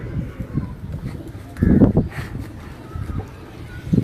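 Soft pigeon cooing close by, a low throaty burble rising once in the middle, with faint background noise around it.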